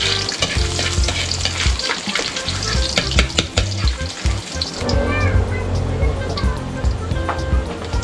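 Ginger, garlic and onion fry in oil in a pan for balbacua, producing a loud, close, continuous sizzle. Frequent stirring scrapes and clatter run throughout, and a dull low rumble sits underneath.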